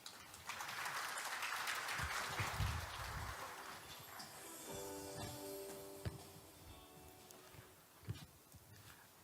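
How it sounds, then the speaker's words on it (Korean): An audience applauds to welcome a keynote speaker at a supercomputing conference, a faint, distant wash of clapping that swells at the start and fades over several seconds into quieter room sounds. "큰 박수로 환영해 주시기 바랍니다"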